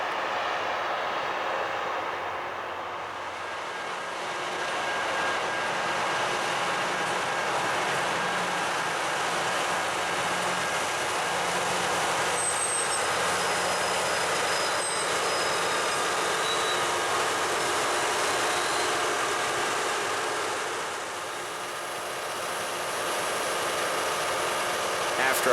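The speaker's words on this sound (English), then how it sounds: "In Grandville, the grinder takes to the seldom used runaround track for the night." A LORAM rail grinder train rolls slowly onto a runaround track at night, a distant steady rumble with faint thin wheel squeals and brief tonal whines over a low continuous drone.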